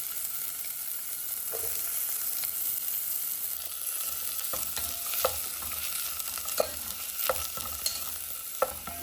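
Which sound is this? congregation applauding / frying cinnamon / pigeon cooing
frying cinnamon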